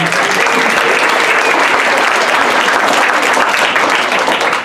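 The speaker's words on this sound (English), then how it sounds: "Big hand for Mark Duarte, ladies and gentlemen." A crowd at a Hispanic Chamber of Commerce event applauds steadily, dense clapping that holds at full strength throughout, with no voices rising above it.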